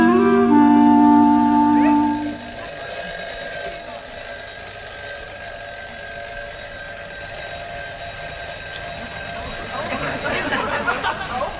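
An alarm clock rings loudly and continuously for over ten seconds, a shrill, unbroken bell that carries on while voices talk over it.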